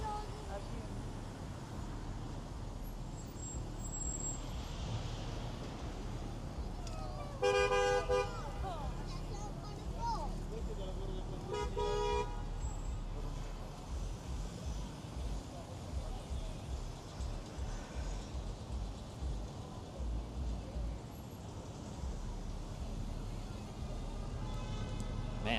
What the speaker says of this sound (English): Man, it is gridlock traffic in downtown Miami tonight.